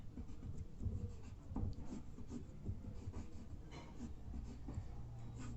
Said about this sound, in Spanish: Este triángulo es el que estoy dibujando